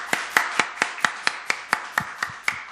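A church congregation claps in a slow, even rhythm, about eleven sharp, distinct claps spaced roughly a quarter second apart, clear and moderately loud against a quiet background.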